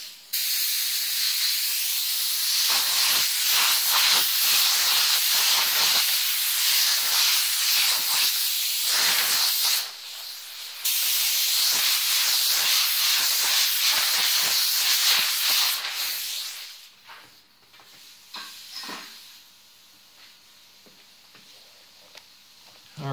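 Spray gun laying down a gold base coat on a devil horns plaque, a loud close hiss in repeated bursts with a short pause midway, tapering to brief spurts and near-silence at the end.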